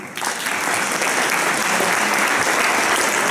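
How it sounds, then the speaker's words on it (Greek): Dense, sustained applause from an audience at a refugee solidarity concert in Trikala, Greece, with steady clapping filling the whole moment and a faint crowd murmur underneath. "Ένα χειροκρότημα."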